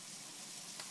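Flour-dusted liver seasoned with salt and pepper sizzles in a frying pan, a steady, soft crackling hiss with no talk over it.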